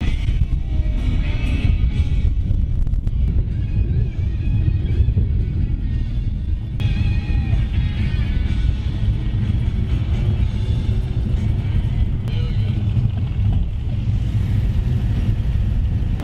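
A 1970 Dodge Challenger on the road, a deep steady engine rumble and road roar heard from inside the car, continuous and fairly loud with no talk.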